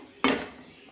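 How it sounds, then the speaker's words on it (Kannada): A pan being handled on a home kitchen stove before making soup: a single sharp metallic clank that rings briefly and fades, fairly quiet and on its own. "ಸೂಪ್ ಮಾಡೋಕ್ಕೆ ಪ್ಯಾನ್ ತೊಗೊಂಡಿದ್ದೀನಿ"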